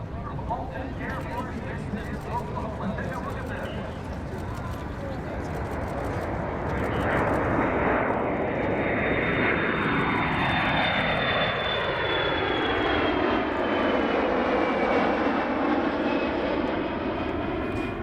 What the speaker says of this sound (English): First into the sky, a KC-135R Strato tanker, and it's followed by a C-17A Globemaster III.